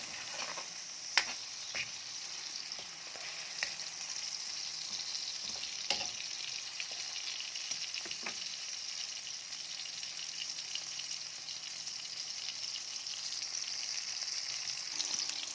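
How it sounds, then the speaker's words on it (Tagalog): Tomatoes sauté in a hot pan for pinakbet, giving a steady close sizzle and crackle that runs throughout. Occasional sharp ticks and scrapes from stirring sound over the constant frying hiss. "Pinisain natin yung ating kamatis."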